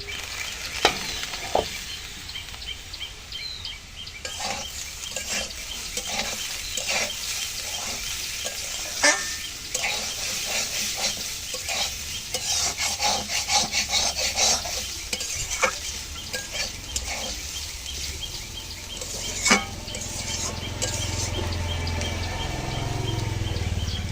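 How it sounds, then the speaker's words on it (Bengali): Potatoes coated in turmeric and salt stirred in a pan for a soybean and potato curry; continuous frying hiss with repeated spatula scrapes and metal clinks, close and busy, with a lower rumble toward the end. "আলুগুলো ভালো করে নেড়ে ছেড়ে নিলাম"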